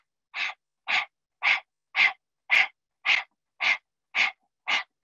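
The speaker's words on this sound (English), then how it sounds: "stick our tongues out and breathe through the mouth like this, like you're panting" Breath-of-fire panting through an open mouth with the tongue out, nine evenly spaced sharp breathy puffs in a steady rhythm, close and fairly quiet, with silence between them and no talking.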